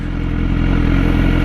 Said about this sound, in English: Just like that, you are now riding the motorcycle